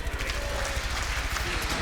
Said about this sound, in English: Hear the crowd getting into it now again.